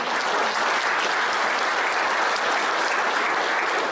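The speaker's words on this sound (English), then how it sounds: "big clap there, Tim" A town audience at the Jerilderie oration bursts into dense, sustained applause, many hands clapping evenly and loudly throughout.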